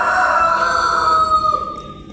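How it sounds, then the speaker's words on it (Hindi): A rooster crows in one long, loud, drawn-out call nearby, fading at the end, with no talk over it. "तेरे मुर्गा बहुत कू करे जा रहा।"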